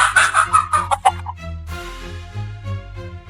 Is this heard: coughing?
no